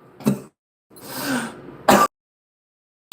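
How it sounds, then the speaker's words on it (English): Several harsh coughs come in separate bursts with short silences between, close and fairly loud, the last one cut off at the end. "I know that I'm coughing a little bit in the live stream"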